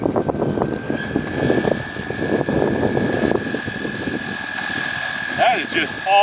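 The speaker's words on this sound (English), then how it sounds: "small propeller noise," A small propeller on a Hangar 9 P-51 Mustang RC model plane buzzes as it passes by, the whine rising and fading against outdoor background noise.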